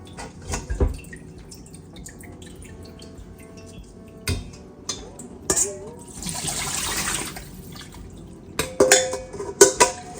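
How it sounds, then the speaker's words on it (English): Raw chicken is rinsed in a kitchen sink, with intermittent splashes of tap water, drips and clinks of the dish against the basin, broken by quiet pauses. "I'm going to go ahead and just rinse my chicken off"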